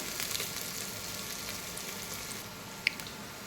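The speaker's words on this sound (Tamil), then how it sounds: "அதுக்கப்புறம் ஆனியன் போட்டுக்கலாம். ஆனியன் நல்லா வதங்கட்டும்." Onions sauté in a mix of oil and ghee for mandi biryani, a faint, steady sizzle with one small sharp tick near the end, heard alone without speech.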